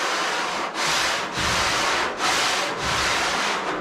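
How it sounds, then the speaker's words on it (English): Straight metal conduit bar with knobs fitted for grip, rubbed by hand with sandpaper over car bodywork before primer; steady, loud rasping strokes in four long back-and-forth passes with brief pauses between, close up and alone. "I can sand on it, and this will show me any spot"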